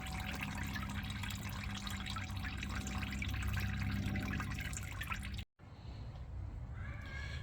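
Engine coolant drains steadily from a Morris Minor into a large drain pan, a continuous trickling and splashing of liquid that cuts out briefly near the end and then resumes more thinly.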